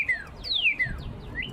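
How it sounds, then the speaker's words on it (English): Real wild birds chirp outdoors on a chilly day, answering a fake toy bird: several quick, bright descending tweets in a loose rhythm, fairly close, with no talking. "hopefully you all can listen in and hear the birds responding"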